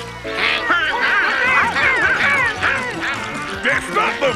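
Cartoon geese honking and quacking in a busy, overlapping chorus, loud and close, continuous for several seconds with a voice briefly mixed in.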